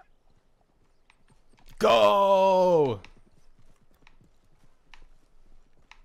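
Horse hooves clip-clop faintly in Red Dead Redemption 2, a light, steady patter under game ambience, broken by a brief loud shout.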